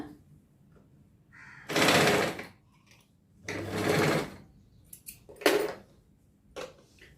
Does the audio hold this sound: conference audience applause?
no